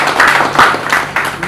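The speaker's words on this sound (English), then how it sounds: "A round of applause for him." Loud, close audience applause in a hall for a Sterling Bank MD/CEO at a corporate introduction event, a brief dense burst of many clapping hands with a few sharper individual claps.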